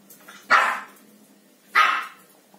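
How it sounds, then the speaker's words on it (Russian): A dog barks twice, loud and close, the two sharp barks separated by about a second of quiet. "Ну, Коль, долго будешь гавкать?"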